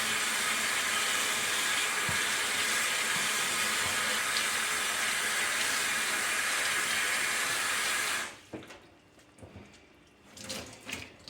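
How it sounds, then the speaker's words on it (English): A cleaning cloth is rinsed under a running household tap, a steady loud hiss of flowing water for about eight seconds, then the water cuts off leaving faint handling sounds and drips. "then just give it a really good rinse off"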